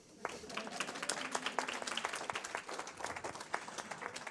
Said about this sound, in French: Est-ce que ce soir, à Poitiers, on peut applaudir Thierry?